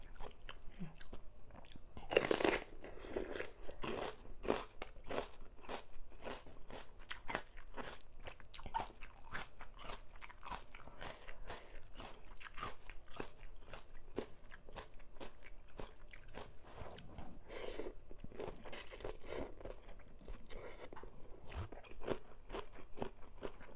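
Crisp, steady crunching and biting from someone eating spicy Thai papaya salad with crispy pork belly, close to the mic, with brief louder crunches and no talking.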